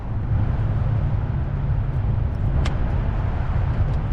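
An auction-bought vehicle with an overheating engine, suspected bad thermostat, runs with a steady, loud, close engine rumble and road noise throughout, with a brief faint click near the end.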